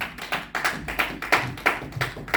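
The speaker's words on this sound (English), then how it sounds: "Clap the hand for brother." A church congregation claps their hands in a bright, sharp rhythm, about three claps per second, loud and close, with no talking.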